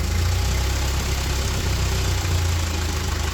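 An old Ford tractor that sat rained in for years idles nearby, a loud, steady low rumble with an even rapid pulse and no voices over it.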